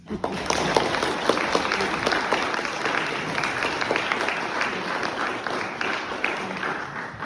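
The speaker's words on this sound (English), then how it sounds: "So please give a round of applause to Corinna Edwards-Colledge, please." Sustained audience applause for a speaker introduced at a talk, steady dense clapping from a sizeable crowd lasting throughout, fairly close and even in loudness with no speech over it.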